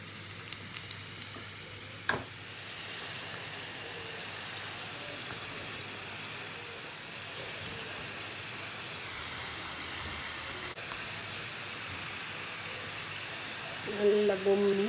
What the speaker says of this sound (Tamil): இப்போ எண்ணெய் கொதிச்சுட்டுது இப்போ ஒரு கொஞ்சம் கொஞ்சமாகவே போட்டு பொரிச்செடுப்போம்